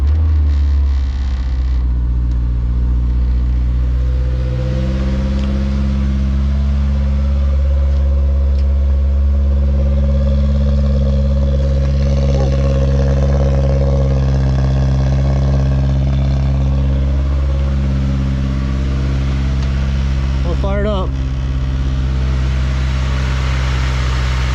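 A 1985 Toyota Corolla GT-S AE86 engine turns over and catches, then settles into a steady low rumbling idle that runs on, loud and close.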